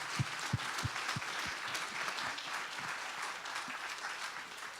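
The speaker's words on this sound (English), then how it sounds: "let's give them a round of applause." An audience at a chamber of commerce panel discussion applauds, a steady wash of clapping with a few sharper claps early on, filling the room at moderate level with no speech over it.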